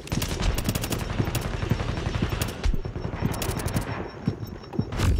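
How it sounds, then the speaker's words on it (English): Rapid automatic gunfire rattles almost nonstop in Tom Clancy's The Division as enemies shoot through a wall, dense and fairly loud, with a few thin higher clicks and no voices. "They're shooting me through the wall."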